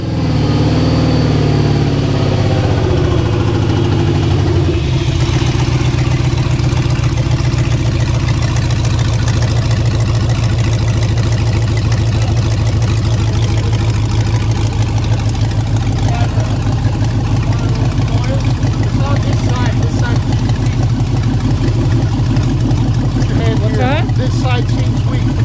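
Engine of a Chevrolet Suburban with an LS swap cranks and starts, then settles into a loud, steady idle with a deep rumble that runs to the end, a voice talking over it at times.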